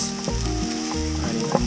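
Sausages frying in a pan, a steady close sizzle with rhythmic scraping and stirring clatter, no talking.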